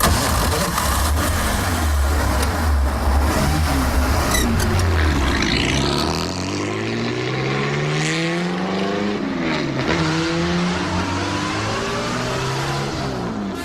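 A Bugatti Type 51 vintage race car engine fires up and roars loudly, its rough idle giving way to rising and falling revs in sweeping blips.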